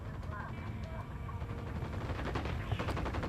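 Gunfire in Ghost Recon Wildlands, a rapid clatter of shots, bursts and single cracks coming through under a busy game mix with faint voices.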